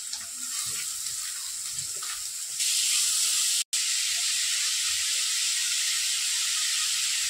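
Finely chopped onion sautéing in a pan with curry leaves, chillies and a pinch of salt, a steady close sizzle and hiss that grows louder partway through, with a brief dropout.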